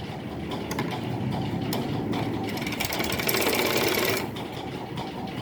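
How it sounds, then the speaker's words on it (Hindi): A sewing machine stitches the neckline facing of a nightgown with a steady, close mechanical whir. A faster, louder run of stitching comes toward the end before it slows, with some quiet background sound throughout. "ये मैंने दोनों गले में लगा ली सिलाई"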